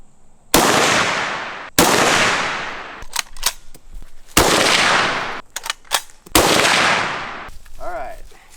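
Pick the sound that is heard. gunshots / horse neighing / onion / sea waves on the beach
gunshots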